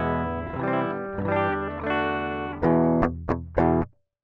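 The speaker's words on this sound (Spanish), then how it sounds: "Así sonaría mi guitarra a la interfaz con el amplificador apagado" Electric guitar fed straight into an audio interface with the Mesa Boogie amp simulation switched off, a clean, thin chord strummed and held, then three short sharp stabs, close and alone.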